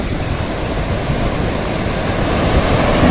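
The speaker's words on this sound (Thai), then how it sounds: "นี้คือบรรยากาศชายหาดที่วัดไทรงามนะครับ ทะเลก็ค่อนสวยเลยครับ" Sea waves wash onto the beach beside a Thai temple on the coast of Phang Nga, making a continuous broad roar that builds slightly louder toward the end, with no voices.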